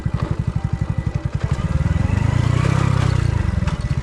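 A Hero Splendor motorcycle engine thumps steadily in first gear up a steep off-road trail, its rapid firing pulses loud and close, swelling into a harder, denser drone midway as the bike strains under load.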